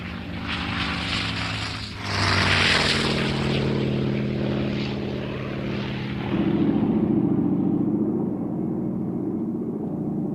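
A Grumman F6F Hellcat, a WWII Navy carrier fighter, roars with its propeller engine in a loud, sustained drone that surges and shifts pitch as the aircraft passes close by.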